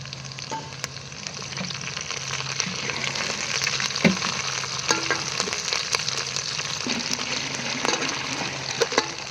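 Food fries in very hot oil, with dense, crackling sizzling and frequent sharp pops and stirring clicks rising and falling over several seconds, close and unbroken by speech.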